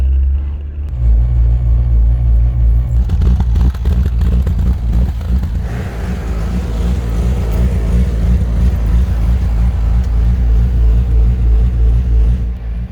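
An Audi R8 engine revs unevenly under throttle, running rough with a loud, sustained, shaky drone that surges and stumbles rather than climbing cleanly, close and continuous throughout.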